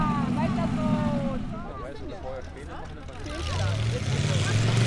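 A homebuilt pulling tractor at a tractor pull in Friesack, Germany, pulls away gently. Its engine note rises and falls under a commentator's voice, starting loud, fading in the middle, then swelling again as it strains forward.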